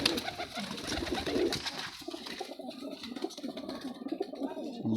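Pigeons coo steadily at close range in a loft of paired birds, including golden females, with soft rustling and fluttering between the repeated low calls.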